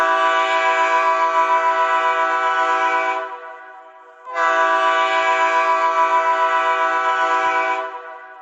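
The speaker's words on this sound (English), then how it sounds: "The engineer uses short blasts and long blasts of the horn in combinations to mean different things." Two long, loud train horn blasts, each sustained about three seconds with a short gap between, blown by a locomotive engineer as a signal, rich and chord-like with no voices.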